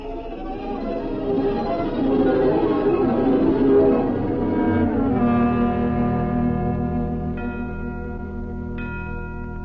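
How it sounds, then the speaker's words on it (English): Bells ring in a jumbled, resonant cluster that fades into lingering tones, with a few fresh strikes near the end. "Alice, what are those bells?"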